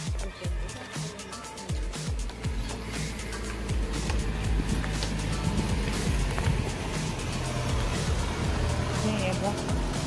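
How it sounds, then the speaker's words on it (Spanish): A car approaches along a rural road in the hamlet of Los Alvarez, Yucuaiquín, its engine rumble building steadily and growing louder toward the end, with people talking over it. "Viene carro ahí."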